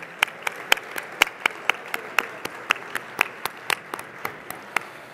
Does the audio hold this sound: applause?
yes